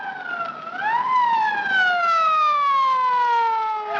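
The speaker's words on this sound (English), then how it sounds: "A police car drives down a dirt road." A police siren wails steadily, sweeping up and then gliding slowly downward, loud and close, with no voices.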